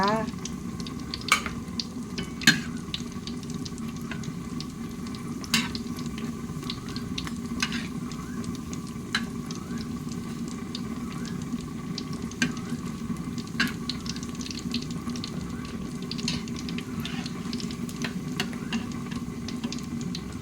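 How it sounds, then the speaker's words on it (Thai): Thai fish cakes fry in a pan of hot oil with a constant close sizzle, broken by sharp ticks and scrapes from stirring, and no one talks. "เราก็จะทอดปลาเห็ด ใส่บาตรกันนะ"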